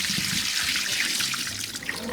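Soapy water is dumped out of an air fryer basket into a sink in a short, steady rushing splash, close and fairly loud.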